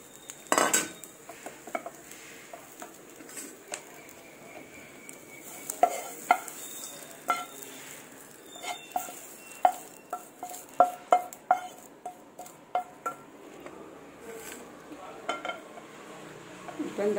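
Coconut being lightly roasted and stirred in a pan, with repeated metallic scrapes and clinks of a spoon against the pan over a faint sizzle, plus brief bits of talk.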